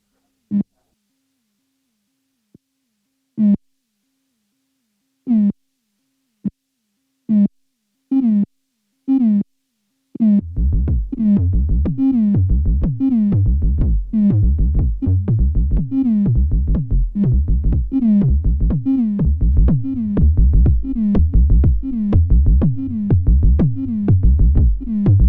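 Korg ARP 2600M synthesizer playing a rhythmic sequence: sparse, plucky tones at first, then a steady, loud, repeating pattern of short pitched notes with a driving low pulse underneath.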